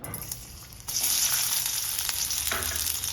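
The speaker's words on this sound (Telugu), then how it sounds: "ఆయిల్ హీట్ ఎక్కాక ముందుగా మనం కట్ చేసి పెట్టుకున్న ఆనియన్" Chopped onions hit hot oil in a pan, giving a steady close sizzle and frying hiss that jumps louder partway through as they land, with a few stirring scrapes and no talk.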